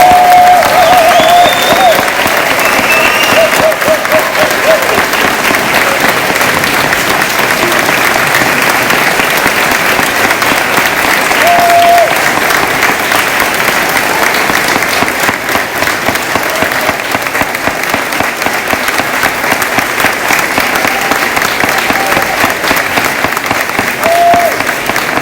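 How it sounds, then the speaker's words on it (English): Sustained audience applause fills a graduation ceremony for a secondary school's 2019 graduating class, loud and dense clapping that holds steady for the whole stretch with a faint crowd murmur beneath. "please stand and give a round of applause to the Corrine Wilson Secondary School graduating class of"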